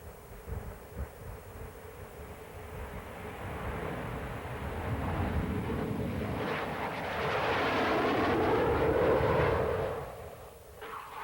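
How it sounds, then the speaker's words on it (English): A Sepecat Jaguar jet attack aircraft flies past, its roaring engine building from a distant rumble to a loud, broad whoosh near the end before fading. "the Jaguar has proved to be a highly potent attack aircraft, specializing in low-level,"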